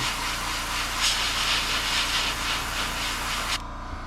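Airbrush spraying paint onto a Rusty 1.5 crankbait fishing lure, a steady close hiss of air and atomized paint that runs unbroken for several seconds, then cuts off abruptly near the end, leaving faint background noise.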